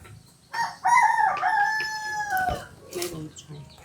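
A rooster crows loudly and close by, with hens clucking around it and a bit of background chatter; village chickens fed on coconut and cassava.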